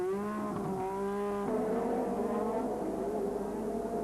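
1986 Formula 1 race cars scream past on track, high-revving engines whining in overlapping tones that shift pitch as the cars pass, loud and close, with no talking.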